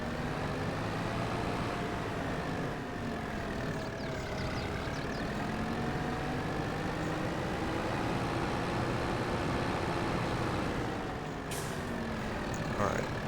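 Tractor engine idling steadily in Farming Simulator 22 on a forest farm, a continuous low drone with faint hiss and clatter throughout, close and constant.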